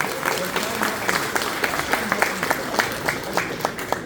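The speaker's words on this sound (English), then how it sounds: "give it a round of applause" A crowd at the Rise of Kingdoms Frankfurt 2024 fan event breaks into dense, lively applause, with scattered louder claps and some voices mixed in throughout.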